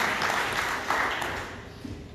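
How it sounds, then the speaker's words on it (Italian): An audience at a festival stage applauds in a short, moderately loud burst of clapping that gradually fades, with some background voices. "Grazie Marta, un applauso anche per te allora, te lo facciamo direttamente dal palco di nobilità."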